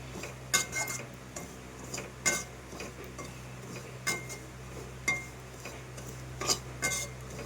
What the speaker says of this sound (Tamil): ரவையை வந்து இப்போ நல்லா வறுத்து விட்டுக்கலாம்.